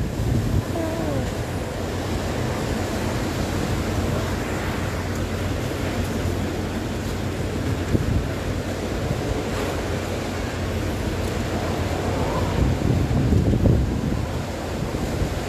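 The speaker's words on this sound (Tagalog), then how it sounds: "base kay Weatherman Mike Padua, ang lakas ng hangin" Strong, continuous roaring gusts of Super Typhoon Rolly batter a microphone outdoors in Naga City, a loud unbroken rumble of buffeting wind that swells and eases without pause.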